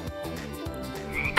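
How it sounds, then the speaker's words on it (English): Frogs croak nearby in a quick series of low, rhythmic calls, loud and clear with no talking. "That sounds like frogs."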